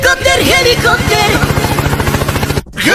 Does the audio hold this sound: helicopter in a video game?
yes